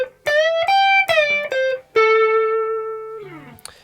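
A clean electric guitar plays a short minor pentatonic lick in pattern 4: a few quick picked notes, then a long sustained note that rings out and fades, with a final pluck.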